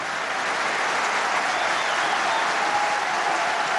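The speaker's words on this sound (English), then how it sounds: "Great applause from the Swindon supporters for Aidan Flint there." Swindon Town supporters applaud at a football match against Leyton Orient, a steady, even wash of crowd clapping from a distance throughout.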